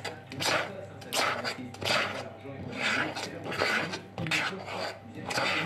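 Stiff chocolate chip and peanut cookie dough is stirred by hand in a bowl, a repeated rasping scrape coming in strokes about every second, close and loud, with a faint voice in the background.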